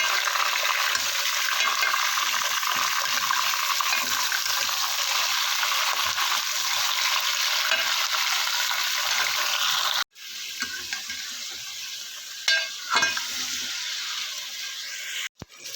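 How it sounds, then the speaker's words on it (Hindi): Chicken fries with onions in a karahi, a loud continuous sizzle that drops abruptly partway through, followed by quieter sizzling with a few stirring scrapes. "इसको हम अच्छी तरह से फ्राई कर लेंगे प्याज में।"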